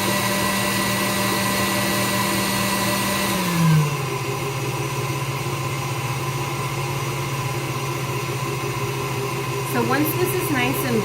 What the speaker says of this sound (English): you're going to blend this up till it gets nice and smooth